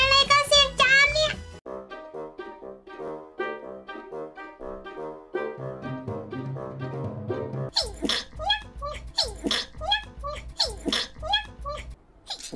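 Repeated sneezes come through during a streamer's highlight compilation, short sharp bursts mixed with voiced, tonal vocal sounds and lively talk.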